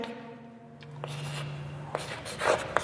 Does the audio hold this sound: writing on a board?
yes